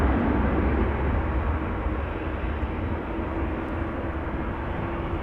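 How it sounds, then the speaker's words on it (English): KLM Boeing 737-800 airliner departing Amsterdam Schiphol for Budapest: a continuous low jet rumble at moderate distance, gradually easing off, with no voices. "KLM Flight 1975 going to Budapest, 737-800"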